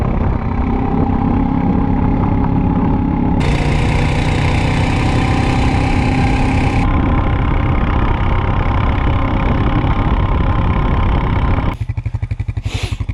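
An old Honda quad ATV engine runs steadily and loud throughout on a snowy forest trail, its tone shifting partway through and changing abruptly near the end, with no talk.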